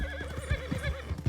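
A horse in the RedM roleplay game gives a clear, wavering whinny, with a few hoof clops mixed in, close and alone with no talk.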